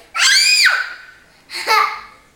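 A young child vocally imitates a cow screaming, with a long loud wavering shriek followed after a short pause by a second shorter cry, close to the microphone.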